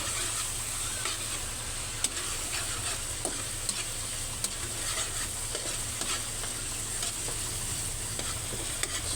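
Buttered garlic chicken fries in a pan, oil sizzling steadily with scattered sharp pops and spatters close up, with no talking.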